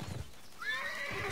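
A horse mount in the online game Bless Online lets out a single loud, rising whinny, preceded by a few low hoof thuds, all close and clear with no talk.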